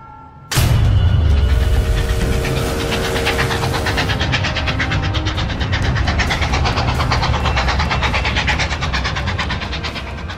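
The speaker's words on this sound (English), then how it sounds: "A pack train speeds on its way south" A train rumbles loudly and steadily along the tracks with a continuous rhythmic clatter, close and sustained throughout.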